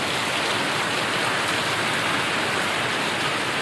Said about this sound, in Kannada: ಮಳೆ ಅಂತೂ ಜೋರು ಅದ ನೋಡ್ರಿ